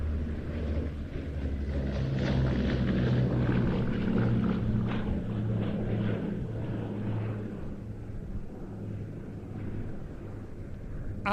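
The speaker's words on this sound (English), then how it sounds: "Ladies and gentlemen, from Duxford, the Arco Blenheim Mark 1." A Bristol Blenheim Mark 1 from Duxford at an airshow gives a steady, distant engine rumble as it flies its display, moderately loud and sustained without talk.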